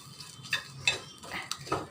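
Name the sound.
frying cumin with onion, garlic and dried chilli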